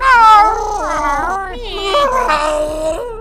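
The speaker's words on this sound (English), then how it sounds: "the boys can hear eerie cat cries." Several cats on a deserted island cry out in eerie, drawn-out wailing meows that overlap and bend in pitch, loud and close with no talking.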